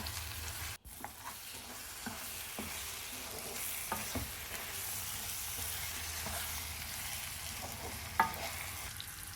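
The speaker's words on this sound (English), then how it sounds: "Braise it all together for about 5 minutes" Mutton trotters and spices sizzle steadily as they braise in a hot pan, with occasional stirring scrapes and clicks and no talking.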